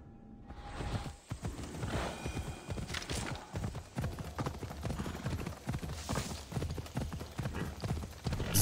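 Rapid rhythmic hoofbeats clatter continuously, like a horse galloping on hard ground, with a faint whinny and soft ambient noise behind, in the video game Assassin's Creed Odyssey.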